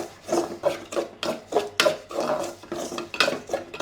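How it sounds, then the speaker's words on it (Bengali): Semolina fries in ghee for halwa while a spoon scrapes steadily across the pan, giving an even, rhythmic rasp about twice per second, close and moderately loud with no talking. "ভেজে নিচ্ছি ঘি দিয়ে।"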